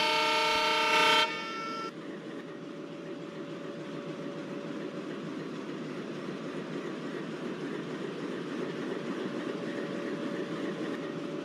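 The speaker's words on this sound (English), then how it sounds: "beautiful curvy action of Shimoga Town KSR Bengaluru passenger train which is slowly approaching Shimoga station" A KJM-based WDM3A diesel locomotive hauling the Shivamogga Town–KSR Bengaluru passenger train sounds a short horn blast, then a steady rolling rumble of engine and coaches continues as it slowly approaches the station.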